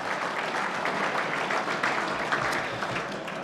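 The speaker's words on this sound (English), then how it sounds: "Round of applause for them again as they make their way to the tables" Steady applause from an audience at a football league awards night, a warm, even patter of many hands clapping continuously at moderate loudness.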